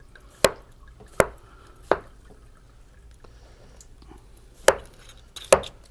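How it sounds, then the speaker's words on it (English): Knife chopping watermelon flesh into square pieces on a cutting board: five sharp, close knocks spaced unevenly, three in quick succession, a pause, then two more, each with a short wet crunch. "now it's easy to just cut it into square pieces"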